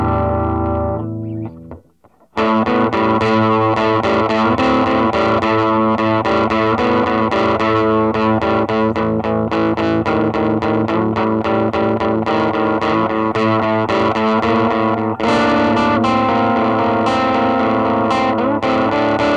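Heavily distorted electric guitar played loud and steady through a Monoprice 5-watt tube combo amp, chords ringing with gritty crunch after a brief quiet start.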